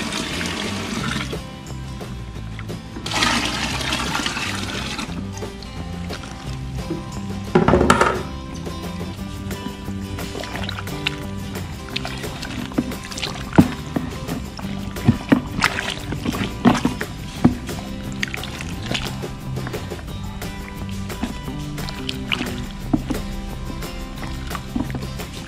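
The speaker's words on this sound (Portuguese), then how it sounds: "você adiciona água." Potable water is poured into a homemade biofertilizer mix, a steady splashing stream that runs for a long stretch with scattered knocks and clatter.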